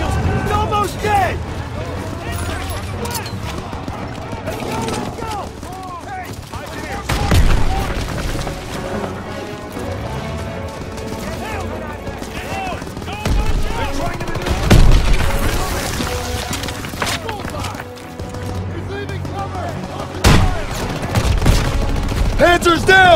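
Heavy gunfire and booming blasts pour onto a German Panzer tank in Call of Duty WWII, with loud explosions rising over sustained shooting while soldiers shout orders.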